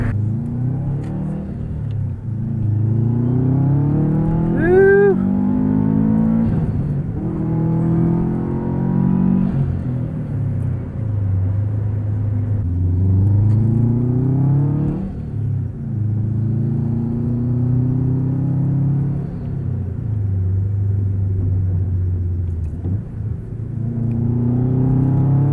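Subaru turbo car accelerating hard through the power band, its engine note rising steadily through several gears with brief dips at each shift, a loud continuous rumble heard from inside the cabin.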